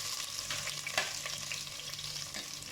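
Chopped onions sizzle steadily in a hot pan while cooking chicken tinola, with a continuous crackling hiss and an occasional scrape as they are stirred.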